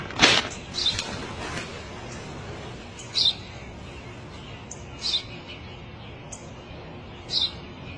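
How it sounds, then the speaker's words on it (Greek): A sparrow chirps several times, short sharp tweets spaced a second or two apart over quiet background noise. "Ένα σπουργίτη είναι, πατέρα."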